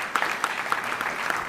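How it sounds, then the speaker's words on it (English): A brief burst of applause from the audience at a mayoral press conference in Philadelphia, clapping for the city solicitor, medium loud and steady over the short span. "a round of applause"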